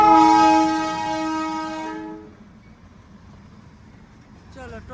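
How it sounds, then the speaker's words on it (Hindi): The diesel-hauled Darjeeling toy train sounds a loud, sustained horn close by for about two seconds, then its rumble fades as it passes, with a voice briefly rising at the end. "टॉय ट्रेन आ गई।"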